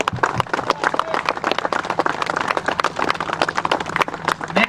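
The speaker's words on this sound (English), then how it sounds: "how about a big round of applause for Nick Albano?" A crowd at a bass fishing tournament event, the Lake Hopatcong Challenge, gives Nick Albano a hearty round of applause: dense, close clapping from many hands that stays steady throughout, with a few voices mixed in.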